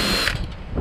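Screws being backed out of a tankless water heater being dismantled for scrap, a short, close, loud ratcheting mechanical whir with clicking.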